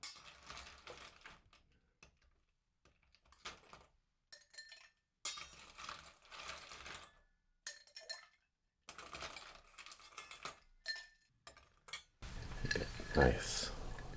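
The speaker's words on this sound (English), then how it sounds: "let's grab some ice" A bartender grabs ice for a cocktail: close, crisp clinks and clatters of ice cubes in short intermittent bursts separated by quiet gaps, ending in a louder, denser rattle.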